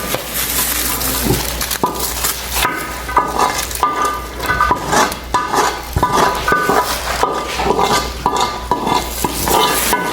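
Food being stirred and tossed in a hot wok, with a constant sizzle and repeated scraping and clanking of a metal utensil, loud and close.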